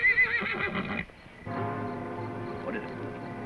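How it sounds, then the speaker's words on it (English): Horses neigh loudly nearby in an old Western film, giving a sharp whinny at the start and more whinnying and snorting afterward over a low background rumble. "Fred, try to keep the horses quiet."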